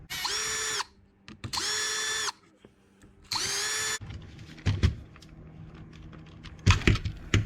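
Power drill backing screws out of a Traxxas 4-Tec chassis, with three loud, steady whirring bursts followed by clicks and rattles as parts and screws are handled up close.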